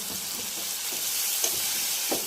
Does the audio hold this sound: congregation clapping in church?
no